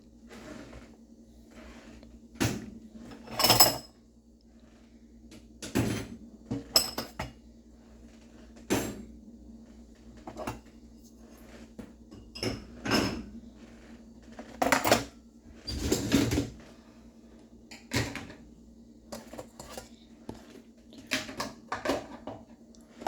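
Items are loaded into a washing machine, giving a series of irregular clanks, clinks and thumps spaced a second or two apart, moderately loud and close with quiet gaps between, no talking.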